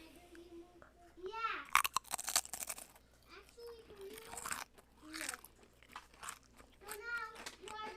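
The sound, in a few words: crunching chips while eating with veggie dip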